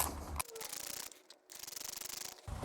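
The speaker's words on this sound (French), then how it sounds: "Donc on va commencer par dévisser" Rim lock on a motorcycle wheel being unscrewed by hand, giving a steady rubbing, scraping metal sound with short ratcheting texture, close and fairly quiet, pausing briefly midway before resuming.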